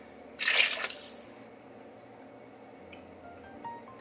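Water and broth poured into a pot for homemade soup make one short, soft splash early on, followed by a quiet simmering hush.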